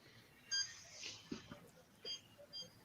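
An old 1990s mobile phone gives out short, thin electronic beeps, a few separate bursts spaced irregularly, faint and somewhat distant against a quiet room background.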